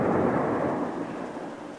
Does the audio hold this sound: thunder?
yes